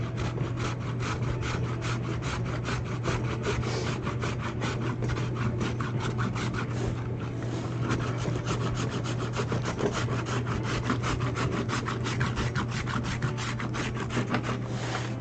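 Hand rubbing and smoothing of mold rubber during a layup, a steady dense scratchy rasp with fast repeated strokes, continuous and close, over a constant low electrical hum.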